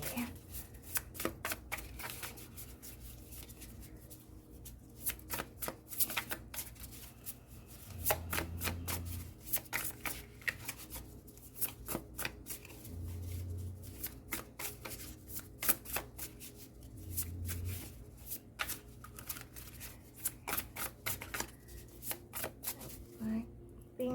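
A deck of tarot cards being shuffled close by, soft riffling and sliding cards in repeated bursts with light taps between them, quiet and continuous, with no talk.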